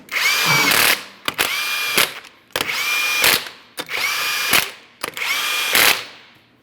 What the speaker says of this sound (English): We'll torque each of these lug nuts to 140 foot-pounds.